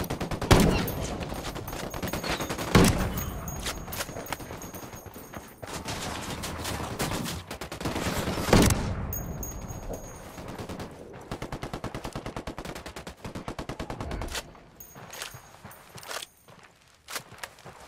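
Video game gunfire, with repeated bursts of loud close shots and rapid automatic fire in several clusters separated by short pauses, along with some footstep-like movement.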